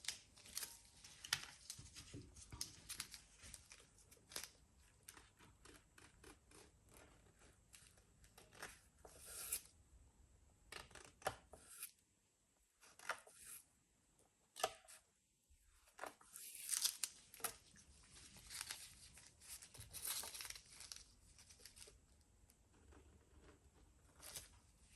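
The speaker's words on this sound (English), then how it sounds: "I'm just going to scrape a bit of that off." Excess nail polish being scraped off a nail with a small tool: close, dry scratchy strokes in uneven bursts with brief pauses, quiet overall.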